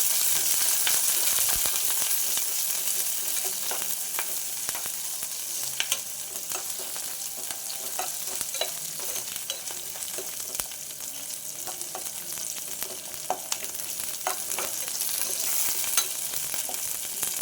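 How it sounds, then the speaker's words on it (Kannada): Chillies, garlic and cumin fry in oil with a steady close-up sizzle and sharp crackles and pops, joined by occasional stirring clicks, for about seventeen seconds. "ಇದನ್ನೆಲ್ಲ ಹಾಕ್ತಾಯಿದ್ದೀನಿ. ಇದಕ್ಕೆ ಒಂದು ಸ್ವಲ್ಪ ಜೀರಿಗೆ, ಇದನ್ನು ಹಾಕ್ಕೊಂಡು ಎಣ್ಣೆಯಲ್ಲಿ ಫ್ರೈ ಮಾಡ್ಕೊಳ್ತಾ ಇದ್ದೀನಿ."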